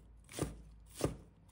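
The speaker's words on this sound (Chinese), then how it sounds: "接着准备2条青椒，把它切成小块" A knife cuts green peppers into small pieces on a board with two distinct, quiet chops spaced about half a second apart.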